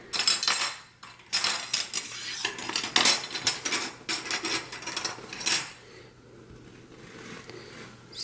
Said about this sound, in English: Now we're going to add in the silverware.